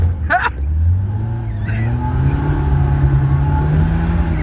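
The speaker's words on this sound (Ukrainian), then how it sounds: "Послухайте турбіну." A car engine hums and rises in pitch as it accelerates, with a whining turbo-like tone climbing steadily; a brief sharp noise near the start.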